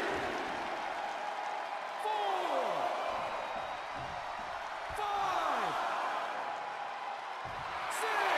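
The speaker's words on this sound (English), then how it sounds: "The sound of this crowd is deafening" A wrestling arena crowd roars and cheers at a SummerSlam Last Man Standing match, a loud sustained din with rising swells, plus whistles, whoops and bangs underneath.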